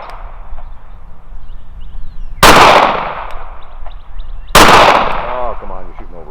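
Glock 48 pistol with 15-round Shield Arms magazines fired at an outdoor shooting range: two sharp, loud shots about two seconds apart, each with a ringing decay over a low background hum.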